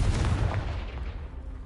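A Confringo blasting spell in Hogwarts Legacy bursts against a pile blocking a castle stairwell: one loud, low blast at the start that rumbles and fades over under two seconds, with no talking.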